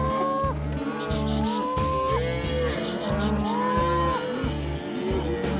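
Cattle lowing and bellowing continuously during a drive along a road, many animals overlapping with long drawn-out moos, loud and close, filling the whole stretch.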